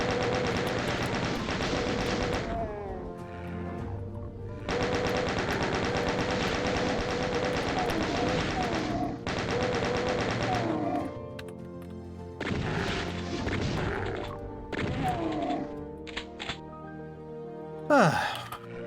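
Chaingunner enemies in a Doom map blast away with rapid machine-gun fire in long sustained bursts, loud and close, broken by short pauses and clattering impacts over almost twenty seconds.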